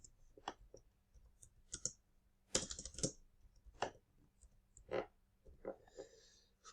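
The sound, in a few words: typing on a computer keyboard in a spreadsheet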